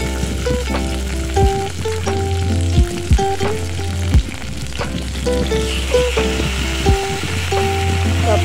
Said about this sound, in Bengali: বেগুন, তারপরে কাঁচা লঙ্কা, টমেটো, রসুন দিয়ে একটু ভেজে নেব আর পেঁয়াজ